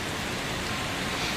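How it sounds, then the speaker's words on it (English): Heavy continuous rain pouring during a prolonged downpour from a deep depression, a steady dense hiss with no pauses, loud and close, no voices. "raining all day. It's rain at night as well."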